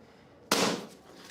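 A balloon pops once, a single sharp loud burst in a quiet room that decays quickly.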